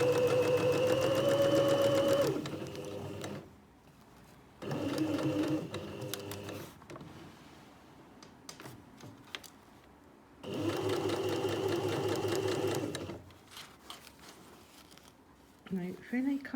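A sewing machine stitches a curved neckline on a v-neck facing in three loud, close bursts of rapid rhythmic whirring, separated by pauses filled with soft handling sounds and a voice speaking.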